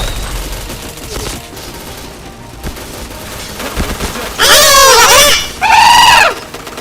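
Video game gunfire during a chain headshot, heard as a dull low thump early on, then two loud, bright bursts of rapid crackling shots near the end, each lasting roughly a second.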